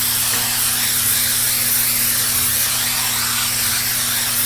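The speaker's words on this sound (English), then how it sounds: "I'm going to just spray my pan with the Pam baking spray." Pam baking spray hissing from an aerosol can onto a baking pan, a steady loud continuous spray with a faint electric hum beneath, lasting several seconds with no talk.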